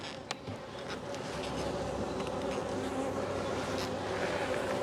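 Honeybees swarm around a beekeeper during a hive inspection, their buzzing a dense, steady drone that stays close and loud throughout, with one brief knock near the start.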